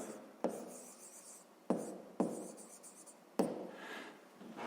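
Pen strokes on paper while a maths word problem is written out, with four sharp taps as the pen lands, each followed by short scratchy writing, close and quiet, no voices.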